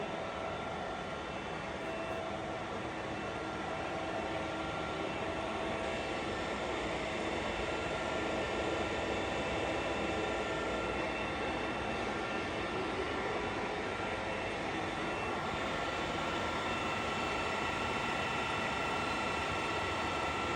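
A Shenyang CW6280B gap bed lathe cutting at its maximum feed rate with the spindle at 125 rpm, giving a loud, continuous, even mechanical roar and whir that stays steady throughout with no talk.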